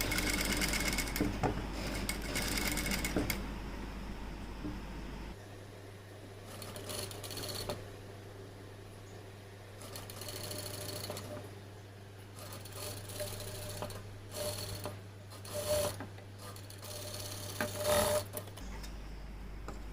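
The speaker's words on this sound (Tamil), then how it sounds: "அந்த 1/4 இன்ச்சில் நான் தைக்கிறேன்" A sewing machine stitches a blouse sleeve with a close, steady mechanical whirr and rattle. Its pitch and pace shift partway through, and it runs alone without talk.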